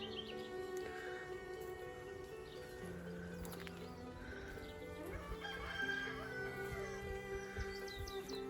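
A rooster crows faintly in a forest garden, its call rising over a low background of sustained tones and scattered bird chatter, distant and soft throughout.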